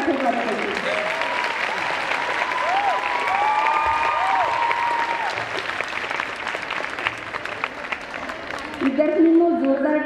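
Schoolgirls applauding at a girls' high school annual gathering, a dense, sustained round of clapping from a large crowd with a voice speaking over it, fading toward the end.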